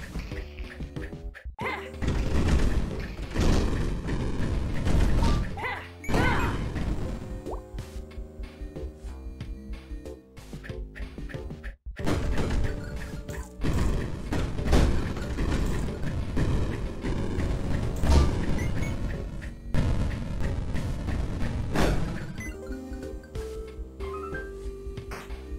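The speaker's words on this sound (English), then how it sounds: "Now that I know explosions don't actually hurt me." Enemies blowing up in a video game: repeated booming blasts and crashes over a dense, loud game soundtrack, with brief drops to near silence between bursts.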